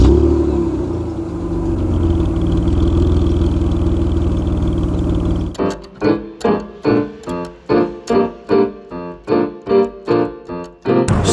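A Rover 825 KV6 Sterling in immaculate condition with 37k miles, driving with a steady low engine and road drone inside the cabin, then a run of regular rhythmic pulsing sounds.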